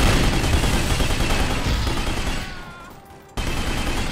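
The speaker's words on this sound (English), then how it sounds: "Give me some cover fire." Covering gunfire in The Godfather video game, loud sustained bursts of shots that thin out and fade briefly before a sudden loud resumption.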